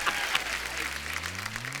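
Brief burst of studio audience clapping on The Kapil Sharma Show, a Hindi television comedy show, steady and moderately loud with a low hum beneath.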